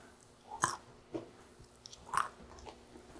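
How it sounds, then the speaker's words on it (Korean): Someone chewing a seasoned steamed-peanut side dish, close crunchy bites in a few distinct bursts separated by quieter mouth sounds, with no talking. "이제 또 땅콩 무침을 먹어볼게요"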